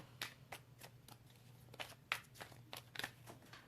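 Tarot cards shuffled by hand, a run of quick papery riffles and flicks in uneven bursts, close and quiet over a low steady hum.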